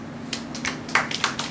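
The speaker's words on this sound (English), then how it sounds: "Now. Hey, claps!" A class of students claps in a few short, scattered, uneven bursts, fairly close, with a steady hum underneath.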